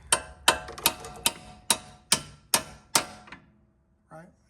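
A hammer taps a bolt out of the suspension of a 2009 Saab 9-3 Aero XWD, striking seven sharp metallic blows at an even rhythm, close and loud, followed by a brief faint sound.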